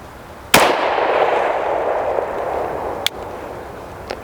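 Two sharp pistol shots ring out during a live-fire drill at a range, the first loud and followed by a long echoing tail, the second a few seconds later, with a fainter click near the end.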